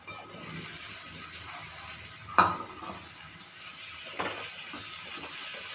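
Bell peppers (capsicum) frying in a pan with asafoetida give a low, steady sizzle, with a sharp metallic clink of a utensil against the pan and a second softer knock later.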